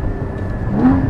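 A Porsche Cayman GT4 engine blips and revs during a rev-matched downshift, a short, loud, rising mechanical roar heard up close.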